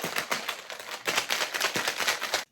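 A cocktail shaker holding ice, Cointreau, pomegranate juice and orange juice is shaken hard in quick rattling bursts, close and fairly quiet, stopping abruptly at the end.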